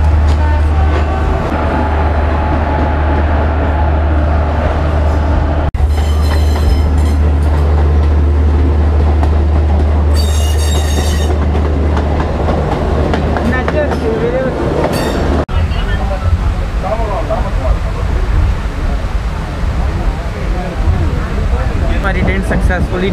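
A passenger train running from Chennai to Rameswaram rumbles steadily from inside the carriage, a low continuous roar with occasional rattles and clatter, while someone talks over it.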